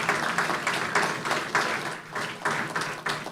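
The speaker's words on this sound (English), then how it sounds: "Let's give him another round of applause." An audience at a national sports awards ceremony gives a round of applause, moderately loud clapping in uneven waves that rise and dip over a few seconds.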